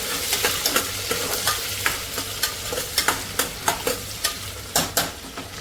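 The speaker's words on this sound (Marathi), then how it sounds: "कांदा लागून फ्राय करून घेते" Sliced onion fries in a pan with a constant sizzle, broken by repeated sharp scrapes and taps of a spoon stirring, close and fairly loud.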